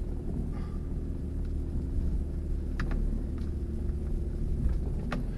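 A BMW E46 car on a test drive gives a steady low interior rumble of engine and road noise, with faint ticks and clicks scattered throughout.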